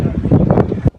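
Typhoon Meranti's record-strength winds batter Kinmen, roaring loud and gusty with heavy buffeting against the microphone for a moment before dropping off abruptly.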